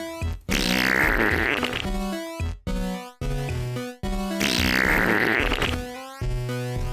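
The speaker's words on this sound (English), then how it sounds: "What do you think about these fart sounds?" Synthesized 8-bit fart sound effects made in GB Studio for a retro Game Boy-style game: two long, loud, noisy raspy blasts separated by a run of short tonal buzzy puffs, with no talking.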